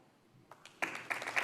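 Presidential debate audience applause swells in from a quiet hall, a few scattered claps first, then a dense burst of clapping that builds over the last second.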